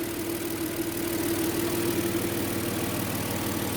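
An LPG Kia K7 engine with 170,000 km idling steadily up close, a constant low hum with a rhythmic mechanical pulse and no voices.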